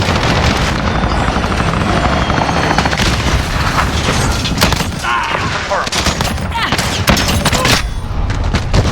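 Helicopter in the video game Modern Warfare, a loud constant rotor roar mixed with bursts of gunfire and impacts, dense and close throughout.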